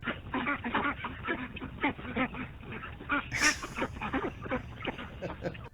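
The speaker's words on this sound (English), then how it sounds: "And now, a birthday message from some ducks." A flock of ducks quacking in a dense, continuous, overlapping chorus of honking calls at steady volume throughout.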